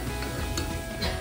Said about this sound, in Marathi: तर तुम्ही बघू शकता आता उकळ यायला चालू झालेली आहे